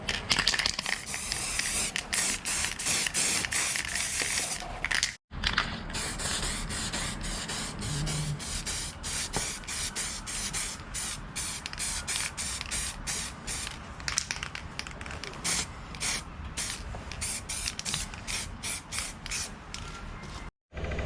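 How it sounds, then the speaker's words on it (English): An aerosol can spraying onto rubber cable grommets during wiring loom work on a Yamaha QT50 moped, one long, close, steady hiss broken only by two brief pauses. "the cable grommets need spraying as well"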